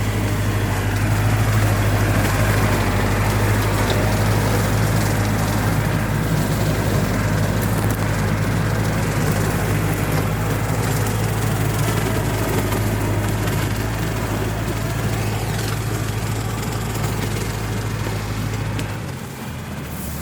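Tractor mowing cogon grass in a small palm plantation, a steady low engine drone with a constant hum and rough mower noise running continuously at close range for the whole stretch, dropping off abruptly near the end.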